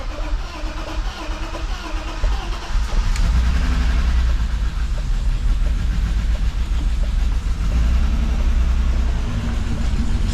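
BMW E36 engine turning over and settling into a steady, loud idle, a continuous low rumble that holds close and even throughout with a brief start transient early on.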